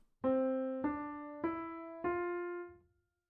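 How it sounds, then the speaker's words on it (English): Four evenly spaced quarter notes at a tempo of 100, each a clear pitched tone with rich overtones that sustains until the next one starts, with the last note fading out. "If you have quarter notes playing at a tempo of 100"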